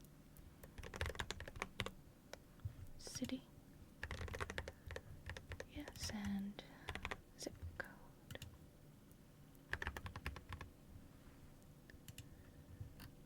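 Soft keyboard typing during an ASMR library card setup roleplay, quiet clicking taps in irregular bursts through most of the clip, with a whispered-soft voice speaking intermittently over it.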